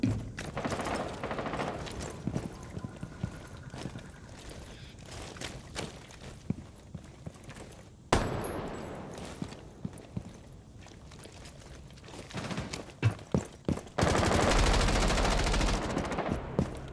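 Automatic gunfire in the tactical shooter game Rainbow Six Siege, with bursts and rapid cracks scattered across the round, a loud sustained burst near the end, and footsteps in between.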